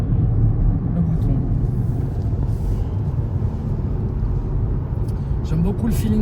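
Inside an MG4 X-power electric car driving on the road, a low steady rumble of road and tire noise fills the cabin while someone talks over it.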